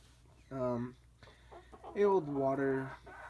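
Chickens cluck and warble close by in a couple of short bursts, with a soft murmur of activity in the background.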